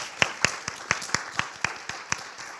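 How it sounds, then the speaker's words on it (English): A small audience at a conference day applauds the events and tech team, with a handful of distinct, spaced claps ringing out sparsely rather than forming a full ovation. "I would like to have a round of applause for all of them"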